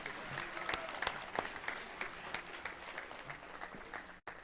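Graduation crowd at a lineman college ceremony claps steadily in a dense, even round of applause that cuts off abruptly near the end.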